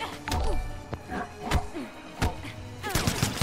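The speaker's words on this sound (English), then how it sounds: "Gunshots." Gunfire in the Mortal Kombat X fighting game during a tournament match, several sharp gunshot bursts in quick succession among thuds and hit impacts, fairly loud and close.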